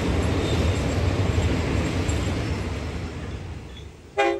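Steady rumbling of a train in Thailand rolling along the rails, a continuous low roar that fades slightly before a brief sharp clatter at the end.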